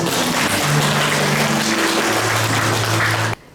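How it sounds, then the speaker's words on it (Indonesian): Audience applause for a woman at a church thanksgiving service, a steady continuous wash of clapping for about three seconds before stopping abruptly, with a faint low hum underneath. "Mari kita berikan tepuk tangan kepada Ibu."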